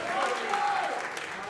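Wrestling crowd at the New Japan Pro-Wrestling Tamashii event in Sydney, Australia, applauding both teams: steady, dense clapping from a large audience, with a commentator's voice talking over it throughout.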